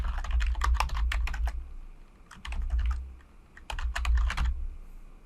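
Rapid clicking keystrokes on a computer keyboard in two or three short bursts with brief pauses between, close and moderately loud over a faint low hum, no voices.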